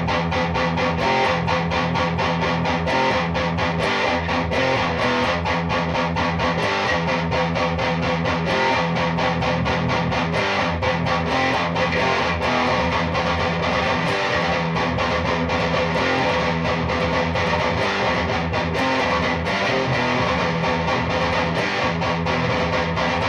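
Heavily distorted metal guitar chords through a Carvin V3M amp, loud and dense with sustained, driving strummed chords playing continuously without any voices.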